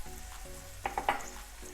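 Shan ginger garlic paste sizzling in a pan with chopped tomatoes and onion for vegetable biryani, a steady frying hiss broken by a few sharp spatters and scrapes of stirring.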